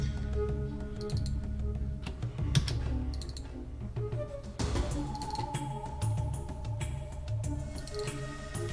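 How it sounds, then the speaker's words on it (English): Computer keyboard keys click and clatter in steady bursts of typing during a Fallout 2 gaming stream, close and fairly loud over a low background hum. "Gotta get those keyboard clicks in loud and clear."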